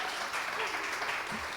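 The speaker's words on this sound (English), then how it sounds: "Yeah, I was gonna say you guys can clap." Audience at a book launch breaks into steady applause, a dense wash of many hands clapping at once, fairly distant and continuous for a short burst with no voices over it.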